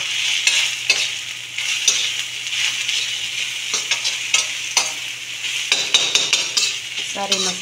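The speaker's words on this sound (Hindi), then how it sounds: "खूब अच्छे से इसको भूनना है" Spiced radish filling frying in a pan and being stirred, a loud, close sizzle broken by repeated scraping and clattering strokes of a spoon against the metal.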